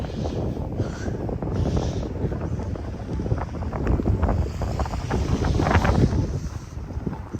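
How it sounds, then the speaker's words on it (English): Wind gusting across the microphone on a daytime walk through downtown Regina in March, with snow plowing nearby: a steady, loud, rumbling buffet that swells and surges throughout without pause. "Found the wind."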